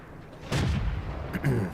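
A single tank cannon shot in the video game World of Tanks booms out fairly faintly, followed by a softer second thump a moment later.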